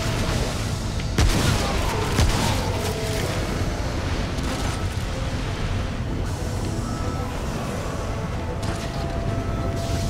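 Enemy gunfire in the co-op action shooter Remnant: From the Ashes, a dense ongoing clatter of shots and mechanical noise with a sharp louder burst early on, steady and loud throughout with no talking.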